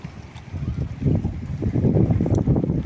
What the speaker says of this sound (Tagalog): Pangit ng panahon, no? Papunta dito yung hangin, yung alon.